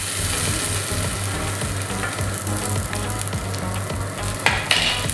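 Rice stirred into puliyogare masala sizzling in a hot pan, a dense continuous frying hiss with scraping stir strokes and a couple of louder clatters near the end, no voices.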